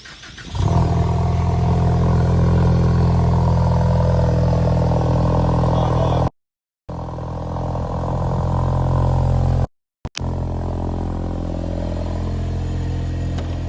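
An engine runs through an MBRP race exhaust, starting up and holding a loud, steady, deep drone without revving, cut by two brief silent gaps.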